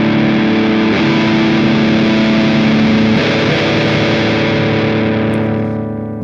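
A distorted electric guitar played through a Line 6 Helix amp modeler rings out with loud, saturated chords that sustain thick and steady for several seconds before fading slightly at the end.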